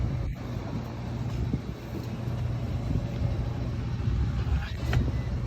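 The compressor and condensing fan motor of a Carrier HVAC unit run outdoors as a steady, loud, low hum with broadband whooshing air noise that holds constant for the whole stretch.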